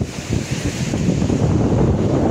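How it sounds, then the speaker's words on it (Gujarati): Sea waves break and wash along the shore at Dwarka, a loud, continuous roar of surf mixed with heavy wind buffeting the microphone, with no voices. "જો દરિયામાં મોજા બહુ મસ્ત આવી રહ્યા છે."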